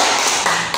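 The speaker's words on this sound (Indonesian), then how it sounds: "tepuk tangan buat Bapak" Brief burst of applause for a teacher, a quick patter of several people clapping, close and fairly loud, lasting under a second.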